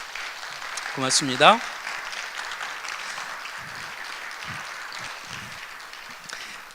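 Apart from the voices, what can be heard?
audience applause welcoming four speakers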